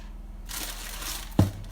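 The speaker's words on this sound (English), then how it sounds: "Fairly generous grind, so I'd say probably, like 1/4 teaspoon of your pepper." A pepper grinder cracking peppercorns over a cauliflower and broccoli salad, a brief close crunchy grind with one sharper crack near the end.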